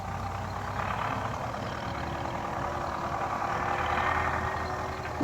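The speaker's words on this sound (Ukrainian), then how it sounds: "Зрозуміло, трактор що сюди їде." A tractor engine rumbles steadily near a rural vegetable garden, a continuous low hum at even loudness that swells slightly toward the end.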